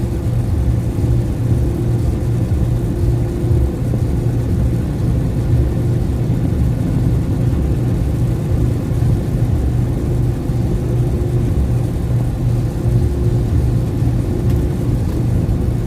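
Steady low engine drone of a Kenworth semi truck cruising on the highway, a continuous rumble with a faint mid whine held at even loudness throughout.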